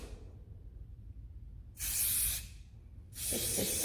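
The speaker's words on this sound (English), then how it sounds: "One more spray" Two short bursts of aerosol hairspray hiss up close, separated by a pause, against faint low background rumble.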